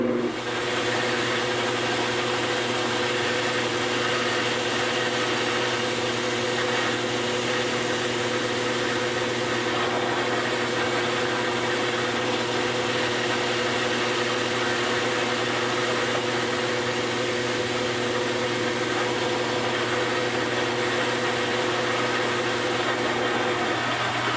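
A homemade drill press drum sander runs a test spin, giving a loud, steady motor hum with a constant tonal whine and vibration throughout, no pauses and no talking.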